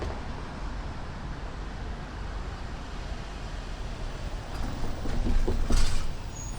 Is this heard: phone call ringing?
no